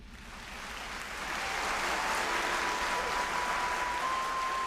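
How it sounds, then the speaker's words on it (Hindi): Applause in a Hindi cartoon movie swells in after about a second, then holds as a steady, fairly loud wash of clapping with no voices over it. "कुछ ऐसे भी हैं इनमें जिनका स्वागत तालियों से होता है।"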